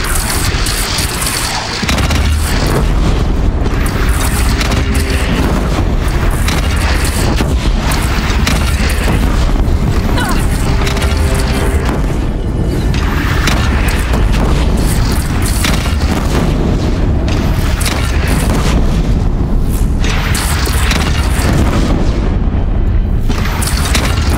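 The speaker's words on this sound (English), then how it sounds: "They only have one cannon!" A cannon fires during a battle against a bandit clan, giving loud, deep booms that roll into a continuous heavy rumble and stay thick and dense throughout, with no clear speech.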